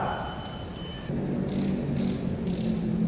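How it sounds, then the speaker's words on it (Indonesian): Micrometer screw gauge being turned to measure the diameter of an iron rod, giving three short, crisp bursts of ratchet clicking about half a second apart over a low steady hum. "Misal kita akan ukur diameter batang besi menggunakan mikrometer sekrup. Seperti ini, kita putar."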